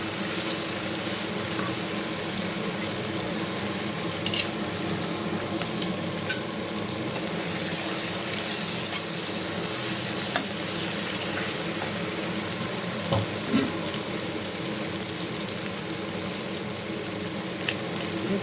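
Two tomatoes sizzle in hot oil while a fish fry is being cooked, giving a soft, continuous crackling sizzle with small pops, heard alone at low level.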